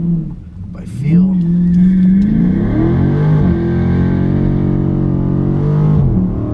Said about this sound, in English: So we'll do a little bit of a launch.